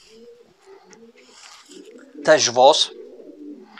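Vos-line racing pigeons make faint low coos in a loft, a quiet background murmur broken by a brief loud burst of a man's speech near the mic.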